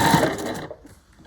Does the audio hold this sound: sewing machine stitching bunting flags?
yes